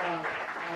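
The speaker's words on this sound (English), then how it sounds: "Big round of applause to Mireille." An audience applauds at a conference session, a dense, steady wash of clapping that fills the whole brief moment.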